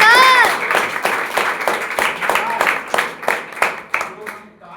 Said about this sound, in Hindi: नेपाल जाने वाले ठोको ताली।